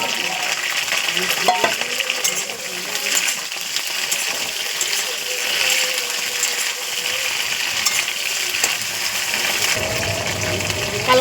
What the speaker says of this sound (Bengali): কড়াইতে তেল গরম করে চিংড়ি মাছগুলো ভালো করে ভেজে নেব